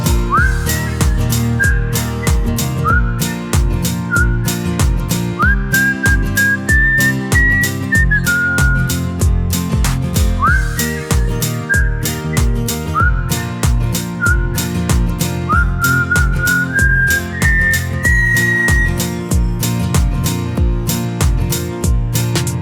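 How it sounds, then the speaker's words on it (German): Melodic human whistling carries a bright repeating tune in short rising phrases, loud and close over a steady rhythmic music backing, with no speech. "Am Samstag muss das Mini-Monster immer wieder pfeifen."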